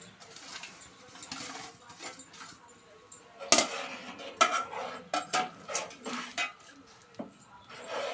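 Upma rava (semolina) is stirred in boiling water in a pan, with irregular clinks and scrapes of a spoon against metal rising and falling close by, and a faint voice in the background.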